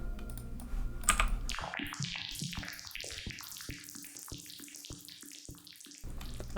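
Dense clicks pass through a multiband delay with its scale turned fully up, scattering into rapid, irregular, lengthened echoes that spread into a busy clicking texture, fairly faint and without any talk.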